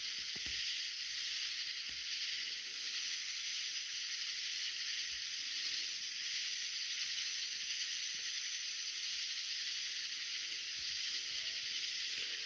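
Loud cicadas drone at night in an unbroken high buzzing hiss that pulses faintly, a dense chorus close by with occasional low thumps beneath and no speech.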